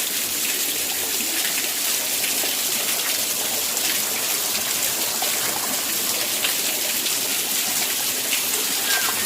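Busay Falls in Maonon, Ligao City, running low, produces a steady, even hiss and rush of falling water, constant and fairly loud throughout with no voices.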